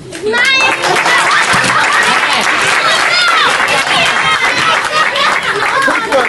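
Applause from a mostly young audience at a Christmas magic show in Christ Church, dense and steady throughout, with excited children's voices and chatter mixed in.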